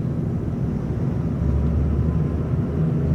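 Steady low engine drone of an older Hyundai Verna SX 1.6 petrol sedan under way, a continuous rumble with mild swells and no voices.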